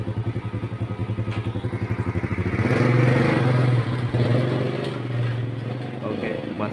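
A motorcycle engine with a freshly repaired carburetor idles steadily up close, a loud even putter that swells briefly in the middle before settling back.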